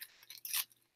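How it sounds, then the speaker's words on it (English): Large, clunky scissors snipping through thin tissue paper while making a faux metal crown from craft foam, a few quick crisp cuts up close, fairly quiet with no talking. "this tiny little tissue paper work I'm doing with these giant clonky chonky scissors"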